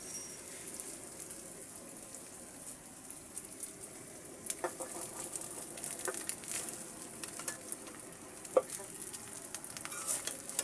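Cooked rice frying in oil in a pan for fried rice, a quiet steady sizzle with a few soft scraping stirs and light clinks, no talking.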